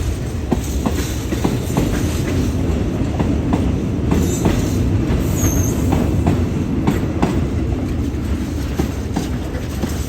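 Freight train 726 of the State Railway of Thailand hauls containers through Bang Sue Junction, a loud, steady rolling rumble with rhythmic clickety-clack of wheels over rail joints and a brief high wheel squeal, heard up close.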